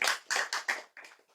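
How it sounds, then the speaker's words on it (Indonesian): A few close, sharp handclaps in a quick irregular run of about six, loud at first and fading toward the end, with no voices over them. "Tepuk tangan"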